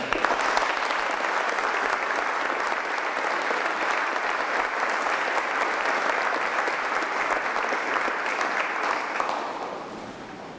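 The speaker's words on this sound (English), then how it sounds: "Let's give a big round of applause for Nick Pinchuk." Sustained applause from an audience at a technical college event, a steady wash of many clapping hands lasting about ten seconds and easing slightly at the end, with no talking over it.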